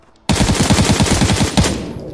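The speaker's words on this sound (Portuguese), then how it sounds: "Tiro." Automatic gunfire in the PUBG battle royale game, a loud, sudden burst of rapid evenly spaced shots lasting well over a second, then a fading echo.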